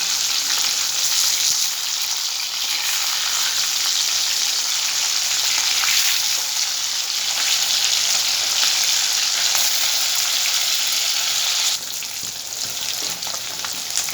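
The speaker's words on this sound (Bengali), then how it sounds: "এইভাবেই আমি উল্টো পিঠটাও ভেজে নেবো লাল করে।" Loud, continuous sizzling of rohu fish frying in oil, a dense crackling hiss that holds steady throughout and eases slightly near the end; no speech.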